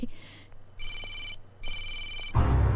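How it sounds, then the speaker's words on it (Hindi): A telephone rings in a 2010 Hindi comedy-drama film scene, two clear electronic ring bursts separated by a short pause, moderately loud, then a sudden louder noise cuts in at the end. "सैम का फोन है"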